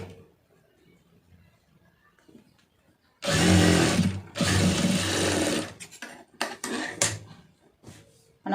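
A sewing machine stitches the hem of a plain blouse, running loudly in two long continuous bursts, then in several short stop-start runs, close by with no talking.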